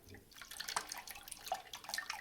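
Water trickling gently through a toilet fill valve as the supply is eased open to flush out debris, a soft, uneven splashing and dripping close by with no talk.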